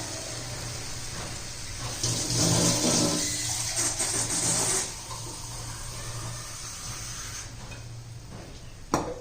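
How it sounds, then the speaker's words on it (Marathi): A brief gush of water is poured into a pan of sautéed peas and potatoes, a few seconds of splashing against a steady low hum, then quieter bubbling. "आपण आता पाणी घालून घेऊया"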